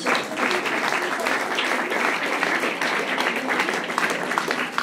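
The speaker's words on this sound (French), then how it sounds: "qu'on peut applaudir aussi très fort" Loud, sustained applause from a crowd at a 2020 Strasbourg municipal campaign event in a gallery, steady dense clapping filling the room without a break.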